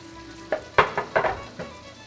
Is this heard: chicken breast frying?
yes